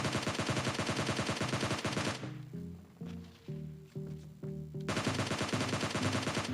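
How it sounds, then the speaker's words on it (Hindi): Gunfire in PUBG Mobile Lite: rapid automatic bursts sound loud and continuous at first, then give way to slower, spaced single shots before another sustained rapid burst. "अब मैं जैसे यहाँ पे आया था गन फाइट के साउंड आए थे"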